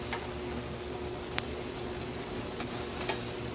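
Chicken sears in a hot pan with a steady, even sizzle throughout, one close spattering crackle standing out briefly partway through.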